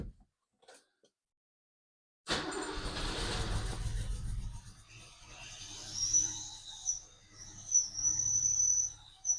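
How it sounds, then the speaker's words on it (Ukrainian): A Walter engine with a misfiring cylinder runs rough, starting after a brief silence into an uneven, lumpy drone whose loudness surges and dips irregularly. "Ну, явно троїть мотор, причому люто."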